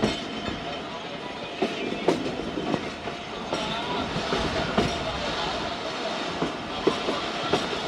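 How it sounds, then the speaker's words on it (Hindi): The Jaffar Express, a Pakistani passenger train, passes close by on the rails near Kot Radha Kishan, with a loud steady rumble and repeated clickety-clack wheel knocks on rail joints throughout. "एक्सप्रेस भी अप्रोच कर रही है कोट राधा किशन।"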